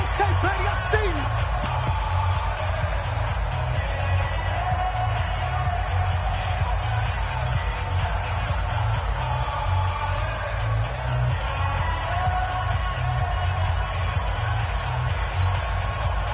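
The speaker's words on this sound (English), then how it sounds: "The crowd getting into it as we come up on a big 3rd down." A stadium crowd in a football video game on PS4 roars and cheers ahead of a big third down, a dense continuous wash of crowd noise running under a commentator's voice throughout.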